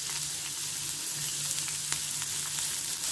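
Chopped small onions fry in oil in a pan for a spicy dosa chutney, making a close, steady sizzle with light crackles and a few soft ticks of stirring.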